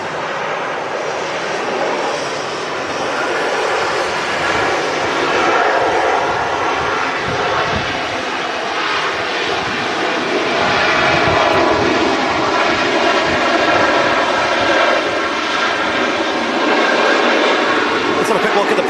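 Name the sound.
airplane landing at Manchester Airport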